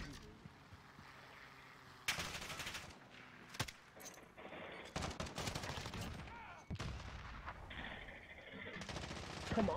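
Gunfire in the video game Modern Warfare, with bursts of automatic fire and single shots going off in irregular clusters, loud and close, mixed with in-game noise.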